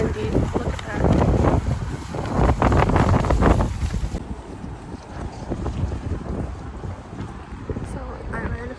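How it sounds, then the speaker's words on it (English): Strong wind buffets the microphone in loud, rumbling gusts, heaviest early on and then easing into a steadier blustery roar. "why is it so freaking windy?"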